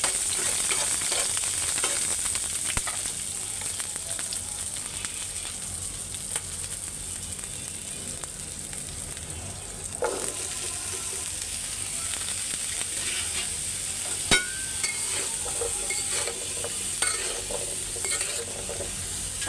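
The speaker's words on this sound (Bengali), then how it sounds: "মিষ্টি কুমড়ার ভাজিটা আগে বসায় দিতেছি। তো এই যে পেঁয়াজ দিয়ে নিই অল্প কয়টা, তার সাথে কয়েকটা কালো জিরা দিয়ে দিব।" Pumpkin fries in a pan with onion and black cumin, a steady close sizzle with occasional stirring scrapes and clinks running throughout.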